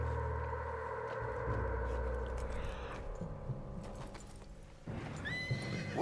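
A spooked horse in a video game whinnies shrilly near the end, after steady hoof clip-clops and rumbling game ambience, with no voices.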